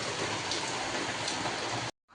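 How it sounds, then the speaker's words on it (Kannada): Heavy rain pouring down at night, a dense, steady hiss of falling water that fills the scene at even loudness before cutting off abruptly near the end. "ಮಳೆ ಮಾತ್ರ ತುಂಬ ಜೋರಿದೆ."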